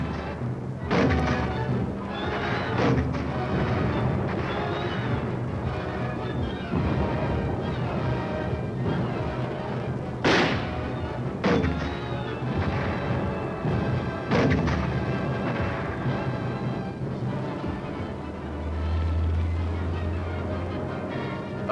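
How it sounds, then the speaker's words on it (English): An artillery gun crew fires in a dense, loud barrage of heavy booms and thuds layered over a constant rumble, with several sharp blasts standing out along the way. "The command to fire is given"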